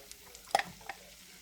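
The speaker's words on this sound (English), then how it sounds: "Now I'm going to add in all of the sliced onion" Sliced onion hits melted butter in a hot pan, a short burst of sizzle and stirring clatter, close and moderately loud, then settling to a faint fry.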